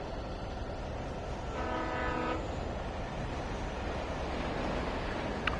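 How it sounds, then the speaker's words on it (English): A train in the Alan Wake Remastered game rumbles past steadily, with a sustained multi-tone horn blast sounding for under a second midway through, fairly close and unaccompanied by talk. "Oh, there is a train."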